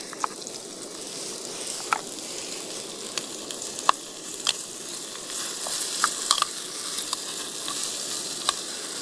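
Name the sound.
paneer frying in curry oil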